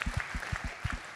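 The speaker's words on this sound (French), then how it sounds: "Bien, on applaudit Brainsonic." Audience applause for award-winning agencies at a French events-industry awards ceremony, a dense steady patter of clapping with rhythmic low thumps, moderately distant and fairly quiet throughout.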